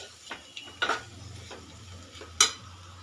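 A spoon scrapes and clinks around a pan of spiny gourd curry being stirred. A few sharp metallic taps stand out over a faint low sizzle, close and intermittent.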